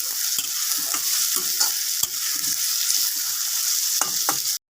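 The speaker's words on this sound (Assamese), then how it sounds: "ভালকৈ লৰাই দিম।" Tomatoes and onions fry in a pan under a constant hiss while a utensil stirs them with irregular scraping taps, and the sound cuts off abruptly at the end.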